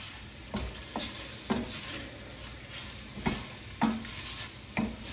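A utensil stirs and scrapes a deglazed pan for chicken and sausage pasta, six distinct scrapes spaced evenly over a soft steady sizzle, close up.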